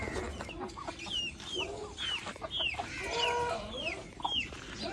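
Hens clucking on a poultry farm where the birds are laying eggs, a steady chorus of repeated clucks and squawks at close to moderate distance, with no talk over them.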